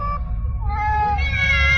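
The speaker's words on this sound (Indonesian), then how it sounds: "Suara kucing-kucing itu pun semakin kencang menggema." Several cats meow and caterwaul loudly and close in an Indonesian radio horror drama, drawn-out overlapping cries over a low rumbling background with no talk.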